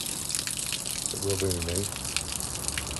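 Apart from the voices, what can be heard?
water draining from pipes through outside tap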